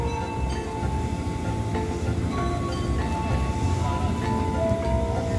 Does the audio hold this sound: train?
yes